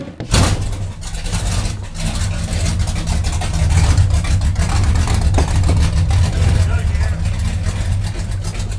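An engine on a traded car catches at about half a second in and settles into a loud, steady, low rumble that holds for several seconds, close by, with slight swells that suggest light revving.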